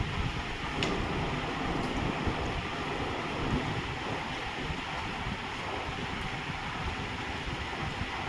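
Sea waves washing onto the shore at Vengurla on the Konkan coast, a continuous broad surf roar mixed with wind buffeting the microphone, steady and fairly loud with no voices.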